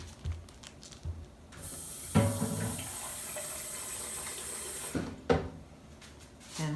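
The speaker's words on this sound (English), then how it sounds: "add some water." Water pours into a blender jar of chopped cabbage, a steady rushing splash lasting several seconds between brief handling knocks, with no talking.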